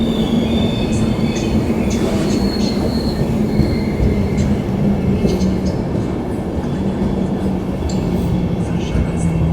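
A RegioJet train passes close by on the rails, a loud continuous rumble and rattle of wheels with intermittent metallic squeals throughout.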